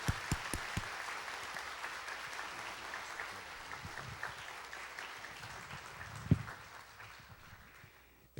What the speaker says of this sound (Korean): 크게 박수로 목사님을 환영하도록 하겠습니다